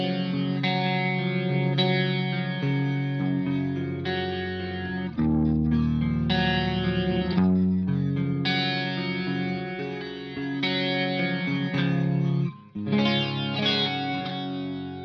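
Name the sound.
1985 Yamaha SPX90 chorus effect with distortion on guitar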